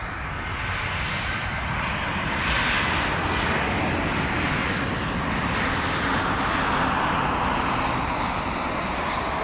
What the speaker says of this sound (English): This American flight is coming in from Seattle.